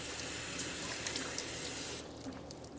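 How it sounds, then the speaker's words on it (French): Carrots are washed in a second bath of clean water, giving a steady close rush and splash of water that drops to a quieter trickle near the end. "Et les laver une deuxième fois dans une autre eau propre."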